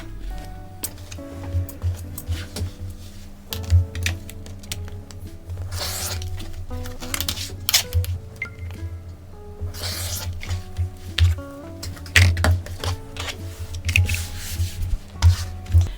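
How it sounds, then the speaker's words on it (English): Scissors cut through quilt fabric along a drawn line, giving repeated crisp snips and soft rustling that come close and irregular, with brief pauses between cuts. "I'm now going to remove the pins and then cut through the drawn line."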